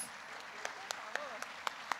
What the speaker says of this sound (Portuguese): uma salva de palmas para os nossos missionários